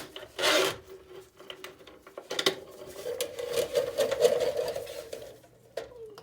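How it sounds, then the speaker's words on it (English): A drain snake cable spins and rasps inside a clogged household drain line, giving a close metallic grinding rattle. A scrape comes first, then a sustained whirring scrape runs for several seconds with no talking. "Now I'm just going to go ahead and finish snaking out the line."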